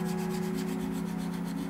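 Steady, even rubbing of a Tamiya 1/24 Nissan Skyline 2000GT-R plastic model body primed in black surfacer, polished by hand in a continuous close, soft scrubbing with a constant low hum beneath.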